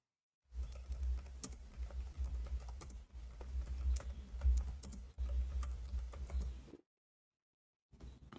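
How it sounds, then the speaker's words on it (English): Rapid clicking of keys on a computer keyboard, close and steady for several seconds, a short pause, then more taps after silence. "Oh, I'm typing in Arabic."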